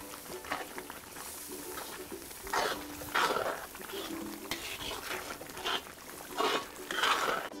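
Vegetables being stirred in a cooking pot while preparing sauce graine, with repeated scraping and clinking strokes of a utensil against the pot that rise and fall in short bursts, close and moderately loud.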